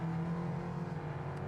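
Ford Mustang driving in the Test Drive Unlimited Solar Crown racing game, a brief steady engine whir held at constant pitch and fairly quiet, with no talking.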